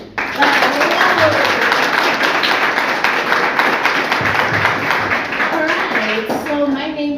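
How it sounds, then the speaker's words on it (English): Dense, steady applause from an audience at an entrepreneurship talk, sustained and fairly loud for the whole stretch, with voices and cheering mixed through it. "just a round of applause to our host and also for yourselves for showing up"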